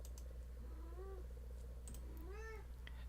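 A pet cat meows twice, faint and somewhat distant: two short rising-falling calls about a second apart over a low steady room hum, with light clicks around them.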